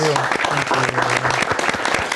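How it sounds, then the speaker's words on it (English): A studio audience at a state representative candidate debate applauds all three candidates: brisk, full clapping throughout, with a voice speaking over it at the start and again partway through. "A round of applause for all three candidates."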